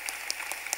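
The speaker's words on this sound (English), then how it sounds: "Yes, another applause line." Audience applause at a university family weekend welcome address, a brief burst of dense, scattered hand clapping from a crowd.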